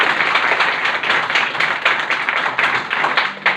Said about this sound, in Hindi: एक बार आप लोग अपने लिए जोरदार ताली बजाइए।